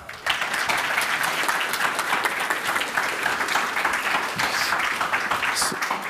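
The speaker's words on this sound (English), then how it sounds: "So give him a round of applause" An audience at a game industry conference applauds a guest arriving on stage, with a dense, sustained burst of clapping that stays steady throughout.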